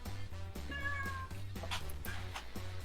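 A pet cat named Katsu meows, a couple of clear rising cries over steady background music, with no talk.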